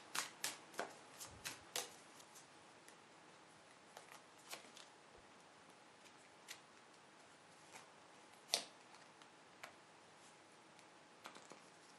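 Cards being shuffled and handled, a quick burst of crisp riffling snaps at first, then scattered soft flicks and taps, quiet and close.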